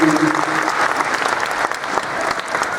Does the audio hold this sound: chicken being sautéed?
no